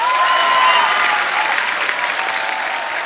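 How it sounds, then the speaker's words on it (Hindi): A studio audience at a televised comedy show claps loudly and continuously, a dense wall of applause with a faint whistle in the background. "जोरदार तालियां हो जाए।"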